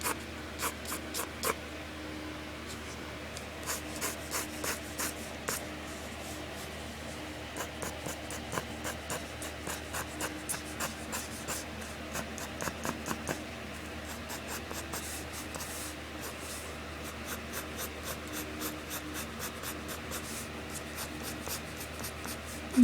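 Gray colored pencil making light, repeated strokes on paper to shade a white dress, a soft steady scratching with short rhythmic bursts of pencil contact, close and quiet, with no voices.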